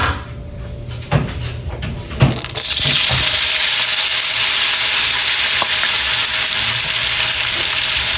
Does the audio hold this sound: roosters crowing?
no